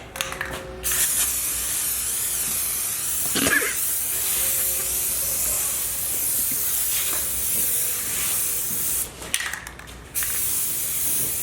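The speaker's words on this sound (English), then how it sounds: "start painting it because I do have blue here" Continuous spray hiss as blue paint is sprayed onto a Nissan 350Z strut bar, loud and steady, with brief pauses near the start and toward the end.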